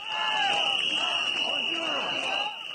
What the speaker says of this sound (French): Entre sifflets et acclamations